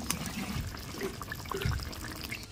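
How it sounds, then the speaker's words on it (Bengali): Water is poured into a pan of mustard sea fish curry simmering with spices, giving a soft trickling and bubbling sizzle with a few brief splashes, fairly close and moderate in level. "মাছটা কষে নিয়ে জল দিয়েছি, এবারে 2 থেকে 3 মিনিট খুব ভালোভাবে ফুটিয়ে নেব।"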